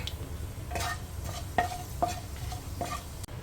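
Panch phoron spices and two dry red chillies sizzle in hot mustard oil over a gas flame, a soft steady hiss broken by several sharp pops and clicks of a spoon against the pan.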